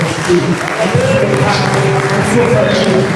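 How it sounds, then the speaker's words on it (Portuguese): A church congregation applauds during a worship service, a loud, dense, sustained wash of clapping with a voice speaking over it throughout. "Aplauda o Senhor pela vitória que Ele está cumprindo"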